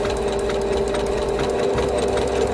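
A sewing machine runs steadily while hemming the rolled-under bottom edge of a high-low tunic, a close, loud, continuous mechanical whir with a fast rhythmic stitching pulse.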